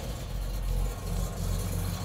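A 1970 Chevrolet Chevelle engine cranks and catches, settling into a loud, deep rumbling idle close by, with no talking.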